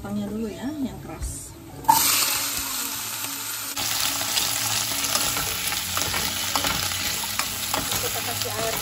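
Garlic and firm vegetable stems hit a hot pan and burst into a loud, steady sizzle, with stirring scrapes heard over it; someone talks briefly before they go in.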